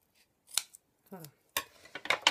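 Scissors cut paper strips for a December Daily scrapbook, producing a few short, crisp snips close by with pauses between them, and a brief vocal sound in the middle.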